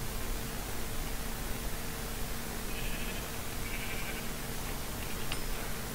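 Sheep in a video game bleat twice in short, thin calls near the middle, fairly faint over a constant hissing background hum, with no speech.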